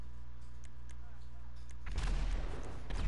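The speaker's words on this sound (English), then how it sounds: "Oh, what was that explosion outside?" A muffled explosion outside breaks through in the GTA 5 video game, a sudden deep boom with crackling debris after a quiet stretch of low game ambience.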